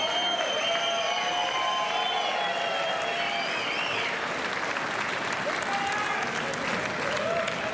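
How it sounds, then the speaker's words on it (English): Democratic lawmakers cheer and applaud at the 2026 State of the Union, a dense wash of clapping with raised crowd voices running steadily throughout at full volume. "We got some of the Dems cheering."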